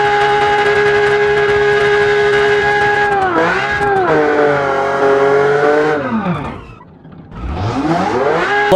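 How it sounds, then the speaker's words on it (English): A V12 engine in a rear-wheel-drive car in BeamNG Drive holds a loud, steady rev, then drops and climbs again twice as the throttle eases off and comes back on, with no talk over it. "And yeah, it's rear-wheel drive, powered by a V12."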